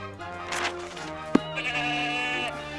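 A goat bleats in the Ultima IX: Ascension video game, a wavering nasal cry held for a couple of seconds over game ambience, with a sharp click midway and no talk.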